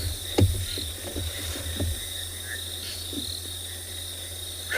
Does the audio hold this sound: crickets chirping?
yes